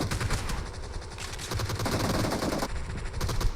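Rapid gunfire in a shooter video game, dense automatic bursts that keep going almost without a break at moderate loudness.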